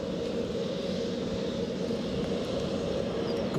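Embraer jet passing on its way to London City, a steady broad roar with low rumble, fairly distant and unchanging throughout, no voices.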